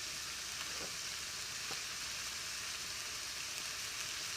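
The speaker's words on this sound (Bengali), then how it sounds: "দিয়ে সুন্দর করে ভেজে নিব" Spices frying in a pan with turmeric powder and chili powder, a steady soft sizzle running continuously at low level with a couple of faint stirring clicks.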